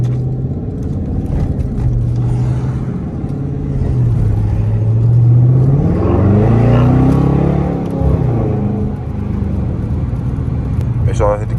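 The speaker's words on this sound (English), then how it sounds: "Make sure I hit the gas for y'all some more." A Dodge Charger R/T with a V6 engine accelerates, its engine note rising and then easing back over a steady low road rumble, heard from inside the car at close range.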